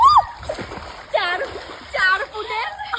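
Water splashes in a small swimming pool in short, choppy bursts, while voices talk loudly over and between the splashes.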